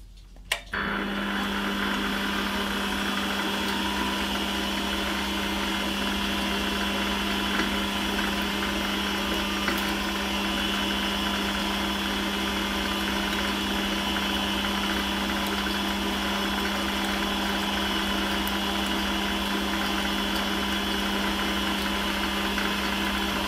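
A Holzmann ED400FD lathe drilling with a 3.3 mm drill bit runs with a steady mechanical hum and high whine, turning continuously after a brief start, with no voices.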